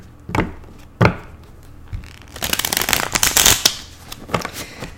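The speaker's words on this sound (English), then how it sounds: "let me go ahead and do a little bit of shuffling here." A few sharp snaps of tarot cards, then a fast riffling burst of the cards being shuffled up close, followed by a couple of light taps.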